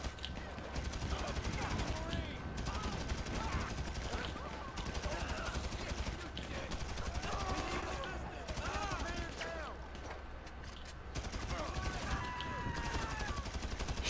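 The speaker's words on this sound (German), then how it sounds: "Ich bin hier schon dran am Schießen" Gunfire in GTA V Online, with repeated shots and bursts spread across the scene at moderate distance, mixed with game noise and someone talking over it.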